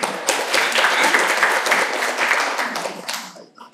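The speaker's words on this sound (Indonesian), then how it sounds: "Mari kita beri tepuk tangan" An audience applauds loudly, a dense wash of clapping that holds steady and then tapers off toward the end.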